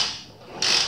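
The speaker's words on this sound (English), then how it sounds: "sometimes you gotta get used to hearing that click." A hair clipper mechanism gives a single sharp click partway through, followed by a bright hissing buzz, close and fairly loud.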